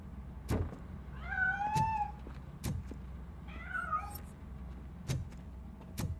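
A cat meows twice, drawn-out and whiny, between scattered hollow knocks and thumps nearby.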